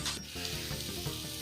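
Spice paste of onion, ginger, garlic and chilli hitting hot oil in a kerahi for an Assamese fish curry with pumpkin, giving a soft, steady sizzle with light stirring scrapes, quiet and close, no talk.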